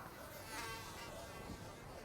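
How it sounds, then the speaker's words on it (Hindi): Mosquitoes buzzing in a Hindi horror audio drama, a thin steady insect whine hovering near the listener for about two seconds, with a short sharp click at the very end. "बहुत मच्छर है इधर तो"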